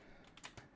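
A few quick taps on a computer keyboard, three or so soft key strikes in under a second, quiet and close with no voices.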